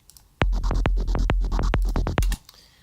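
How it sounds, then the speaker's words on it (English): A synth sound chopped into rapid, evenly spaced rhythmic bursts by a gate, stuttering for about two seconds before cutting off. "I've gated that synth"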